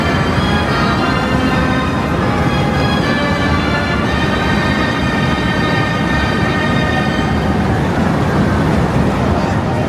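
Racer, the old wooden roller coaster at Blackpool Pleasure Beach, rumbles and clatters steadily and loudly on its track, a dense continuous roar with a faint whine rising over it.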